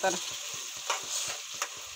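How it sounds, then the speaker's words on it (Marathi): Beans and peas fry steadily in a nonstick pan on a gas stove while a utensil scrapes and stirs in a loose, repeated rhythm, close up. "तर छानपैकी फ्राय करून घेऊ आपण"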